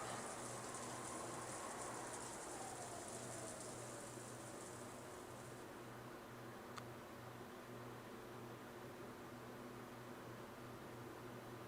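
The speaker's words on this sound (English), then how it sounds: "the sound of the wind and rain began to fill the room, bit by bit" Steady wind and rain ambience from the Umineko visual novel game, a soft continuous hiss of rainfall with a low droning undertone, faint and unbroken throughout with no voices.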